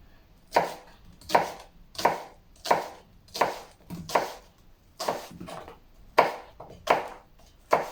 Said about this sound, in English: I'm going to chop my onion anyhow, roughly chop it